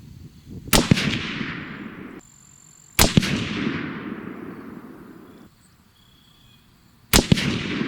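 Three sharp, loud rifle shots from a Savage 111 in .270 Winchester, spaced a few seconds apart, each crack followed by a long rolling echo that fades out across an open range.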